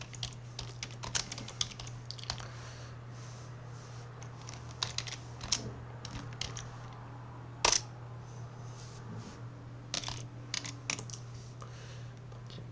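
Close, steady clicking of keys on a computer keyboard as a short program is typed into the Processing software. Keystrokes come in uneven bursts and pauses over a constant low electrical hum, with one louder clack partway through.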